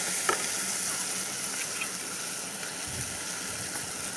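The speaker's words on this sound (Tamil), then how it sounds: "தேவையான அளவு உப்பு போட்டுக்கலாம், இஞ்சி பூண்டு பேஸ்ட் போட்டுக்கலாம், அதையும் நல்லா கிண்டி விட்டுக்கலாம்" Ginger garlic paste and salt stirred into squid gravy frying in a pan, a steady close sizzle with scraping stir strokes, no voices.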